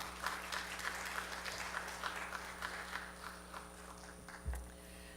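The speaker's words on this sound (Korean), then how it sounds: "우리 하나님께 영광의 박수 올리고 모시겠습니다" Congregation applauding inside a church service, a soft, fairly distant ripple of clapping over a low steady hum, ending with a brief thump.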